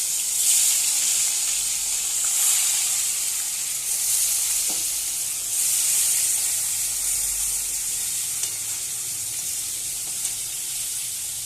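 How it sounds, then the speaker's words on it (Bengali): Fish pieces sizzle in hot oil in a pan, making a steady, loud hiss that barely changes, with faint crackles and no voices. "এবার বাকি মাছগুলোও আমি ভেজে নেব।"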